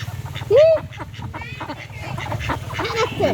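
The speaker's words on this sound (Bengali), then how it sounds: "এগুলো হাঁস আমার পোষা হাঁস" Pet domestic ducks by a pond quack and honk nearby, one loud call early then scattered shorter calls, over a steady low background hum.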